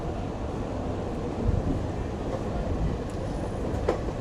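Steady rumble and rattle of the Kolkata–Haldibari intercity express rolling along the tracks from Kishanganj toward New Jalpaiguri, continuous and close, with a faint high whine near the end.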